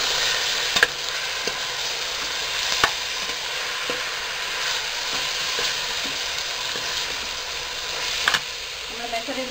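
Split moong dal roasting in a pan for ven pongal, a moderate continuous sizzle with a few scattered clicks of a spoon stirring it, fairly quiet and even throughout.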